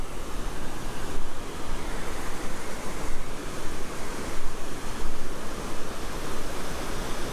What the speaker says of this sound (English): There's a waterfall coming out here